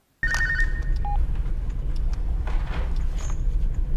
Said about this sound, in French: son histoire est interrompue par un coup de téléphone